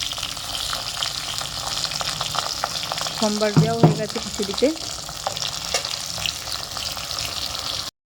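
Pointed gourd slices fry in hot oil for a home-cooked khichdi offering meal, a continuous crackling sizzle with stirring, while a voice speaks briefly over it.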